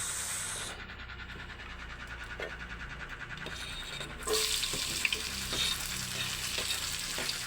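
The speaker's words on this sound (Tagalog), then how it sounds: "Igigisa na natin dito yung ano. Bawang sibuyas." Garlic and onion sautéing in a pan, a constant close sizzle and frying hiss that jumps louder partway through, with intermittent stirring clicks and no voices.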